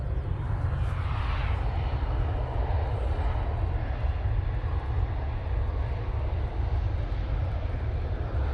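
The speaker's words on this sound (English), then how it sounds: "Oh, nice arrival there from the 737-800." A Boeing 737-800 airliner arrives at Manchester Airport with a loud, steady roar of jet engines that holds close and constant throughout, with no talk over it.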